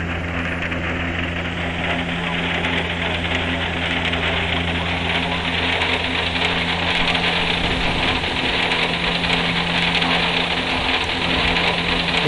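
Steady aircraft engine drone in the flight simulator X-Plane 7, a continuous loud hum with sustained low tones and broad airy noise holding level throughout, with a low tone dropping out partway.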